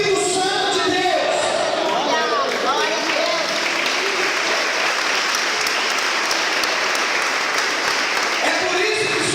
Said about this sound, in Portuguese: Aplauda Jesus mais alto, querido.